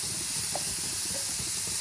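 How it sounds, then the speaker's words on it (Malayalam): Food fries in a pan and gets stirred, a steady loud hiss and sizzle filling the scene with faint scraping underneath. "ഇതൊന്ന് ഇളക്കണം."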